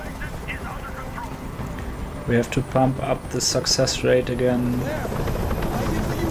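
A helicopter hovering in the video game Detroit: Become Human, a steady low rotor drone running throughout beneath a voice, with some louder bursts of in-game sound in the middle.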